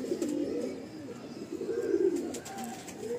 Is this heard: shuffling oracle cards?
no